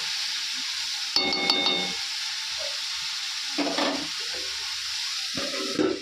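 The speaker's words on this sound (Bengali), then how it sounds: "চিকেনের জন্য আলুটা ভাজছি" Potatoes fry in oil for a chicken curry, a quiet steady sizzle punctuated by a few louder bursts of stirring and spatula scraping against the pan.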